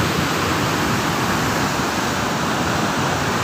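Mahisagar river water rushes through fully opened dam gates and over a check dam, a constant, loud, close roar of churning water with no talk.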